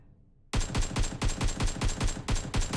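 AKM fire in BGMI bursts in after a short quiet lead-in, a rapid, evenly spaced string of about a dozen loud, punchy automatic shots, each ringing briefly, heard alone without talk.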